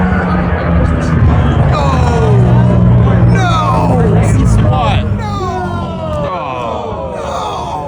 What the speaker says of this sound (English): let's listen to the disappointment from the crowd